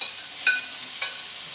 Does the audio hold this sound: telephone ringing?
no